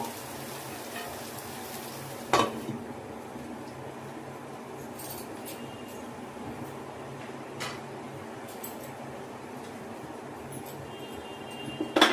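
Chicken biryani bubbling in a pot on the stove, a soft steady simmering hiss with a few sharp clinks of the lid or utensil, close and fairly quiet, no talking.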